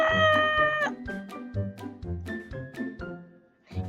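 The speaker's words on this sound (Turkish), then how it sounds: "Ya miyav diyor bir de." Repeated cartoonish cat meows from a Roblox game, several short mews in a steady rhythm, loud and close with a faint tinkling jingle, no talk over them.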